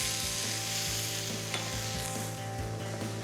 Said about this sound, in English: We're gonna throw our onions and peppers in here, right into the fat from the sweet Italian sausage